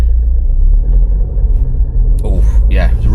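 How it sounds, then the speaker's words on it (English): Inside a Range Rover while driving, a deep constant rumble and vibration from the rear end of the car fills the cabin, close and heavy, and a person talks over it near the end. "It's like a vibration and a thudding noise, and you can feel the back end being sort of pulled along."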